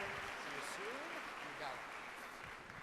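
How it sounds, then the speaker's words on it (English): An audience applauds steadily at the opening ceremony of the 9th World Chambers Congress, the clapping faint and continuous under some background voices. "let's give a great round of applause to these four wonderful gentlemen"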